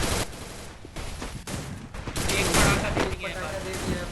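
Grenades burst in a competitive battle video game match, with a string of sharp, loud blasts and crackling gunfire in irregular bursts while a commentator talks over the action.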